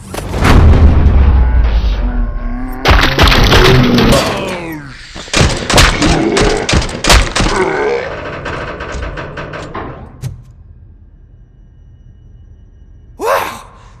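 Heavy gunfire and booming blasts from the video game Robocop Rogue City, loud and dense for several seconds, then fading to a quiet tail with one last short burst.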